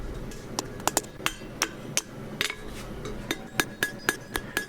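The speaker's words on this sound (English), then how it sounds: "And then I'm drawing out the remainder of the hook to get it to the right dimension." Rapid hammer blows on hot steel as a forged hook is drawn out to length, a dozen or so sharp metallic strikes ringing close and loud in an uneven rhythm with no talking.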